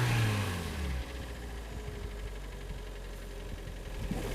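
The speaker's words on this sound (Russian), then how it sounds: "Так, чего, Роман, давайте запустим тогда машину, дадим послушать." A Kia Sportage 3 engine with scuffed cylinders and suspected piston knock idles steadily at moderate level, with a low continuous hum and faint mechanical rattle throughout.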